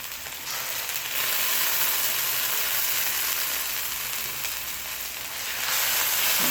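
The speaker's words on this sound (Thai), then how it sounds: "เราก็จะมาคั่วพริกก่อนนะคะ ให้เขามีความหอมก่อนนะคะเพื่อน ๆเราค่อยใส่เนื้อลงไปนะคะ" Chillies and meat stir-fry in a hot pan for Thai basil stir-fry, a loud steady sizzle and hiss running throughout with slight swells as the ingredients are tossed, no voices.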